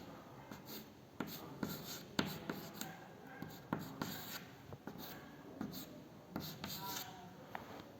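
Chalk or a marker scratches and taps across a board as a chemistry teacher draws a resonance structure in a haloalkanes and haloarenes lesson, with steady strokes and sharp taps, close, while he talks.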